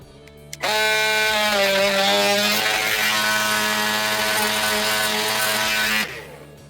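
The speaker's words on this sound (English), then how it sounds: "So you'll take your oscillating tool and place it about 1/8 of an inch below that, and you'll just notch that out so that plate can slide down." An oscillating multi-tool notches a door frame for a strike plate, a loud, steady high-pitched buzzing drone that runs for about five seconds with no talk.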